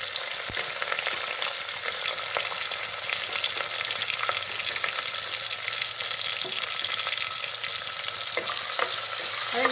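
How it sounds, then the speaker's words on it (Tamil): Onion and green chillies lightly sautéing in ghee rice preparation, a dense steady sizzle and crackle with occasional clicks of stirring, close and continuous. "அதை லேசாக வதக்கிக்கணும்."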